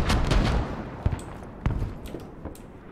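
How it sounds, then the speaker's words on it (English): Artillery barrage and gunfire in a first-person multiplayer war video game: a heavy rumbling blast up front, then scattered sharp shots and distant thuds, loud and dense with no talking. "Let's just run back, run straight into the fucking artillery barrage."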